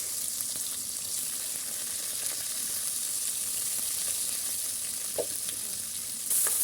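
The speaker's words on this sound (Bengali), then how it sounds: "এখন এটা আমরা হালকা করে একটু ভেজে নিব তারপরে এর মধ্যে দিয়ে দিলাম পেঁয়াজ কুচি" Whole spices (green cardamom, cinnamon, cloves) and chopped onion frying in oil in a pan, a steady soft sizzle throughout with a few faint clicks and a brief louder stir near the end.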